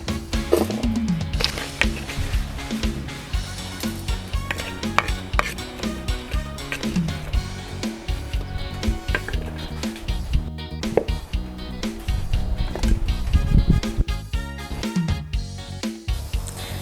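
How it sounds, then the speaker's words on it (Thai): Scraping and clattering of a utensil against a pot, with sizzling and irregular knocks as pounded curry paste is stirred and dry-fried, no voices. "ต่อไปก็คั่วเครื่องให้หอมนะคะ"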